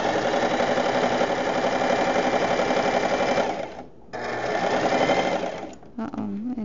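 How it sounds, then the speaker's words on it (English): A sewing machine runs loud and close, stitching fabric for a small guinea pig tunnel in a steady mechanical whir that pauses briefly twice before resuming. "So we're gonna sew."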